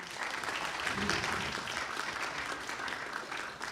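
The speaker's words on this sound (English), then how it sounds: "can we give a round of applause to Diwakari Didi?" An audience at a live spiritual talk claps steadily throughout, a dense, even round of applause from a room full of people.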